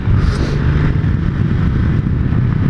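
A Ducati Multistrada 1260 S motorcycle's engine holds a loud, close, continuous low burble while riding, with heavy wind rumble and no speech.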